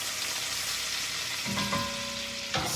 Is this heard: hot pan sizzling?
yes